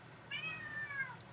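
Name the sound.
cat meowing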